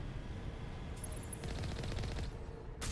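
Turrets in the Mass Effect Legendary Edition game open up with rapid automatic fire in a steady burst through the middle of the scene, set over a constant low rumble of background noise.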